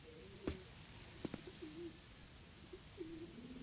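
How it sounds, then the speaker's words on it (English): Pigeons coo in the Postal 4 video game, giving soft low warbling calls at a distance along with a few faint clicks. No one speaks. "I hear pigeons."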